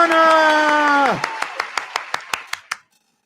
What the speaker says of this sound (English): We got to give Anna a huge round of applause.